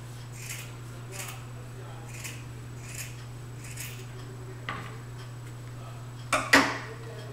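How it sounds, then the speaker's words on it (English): Fabric scissors snip a small V into the folded raw edge of cloth for a sewn fabric bow, a few soft regular clicks followed by two sharper close cuts over a steady low hum. "on the raw edge here, I'm going to cut out a little V"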